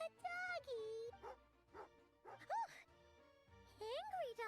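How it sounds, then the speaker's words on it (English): A fierce dog in the game Genshin Impact lets out several bow-wow barks and whimpering yips, mixed with game music and a voiced character's lines. "Oh, angry doggy. Angry doggy."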